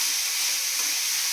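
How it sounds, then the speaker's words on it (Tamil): Tomatoes sautéing in a pan for a jackfruit-seed chicken gravy, a soft, even hiss of sizzling heard close up. "தக்காளியை வந்து கொஞ்சம் நல்லா வதங்கணும்"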